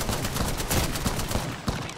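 Rapid bursts of gunfire in a video game rattle in quick succession, dense and continuous across the short stretch, with a brief voice underneath.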